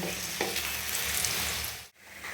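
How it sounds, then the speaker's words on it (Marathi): Pea cutlets shallow frying in a pan give a steady, close sizzle, with a brief scrape or flip near the end and a momentary drop before the frying resumes. "मी अशी शॅलो फ्राय करत आहे मी असं पलटी मारून घेत आहे"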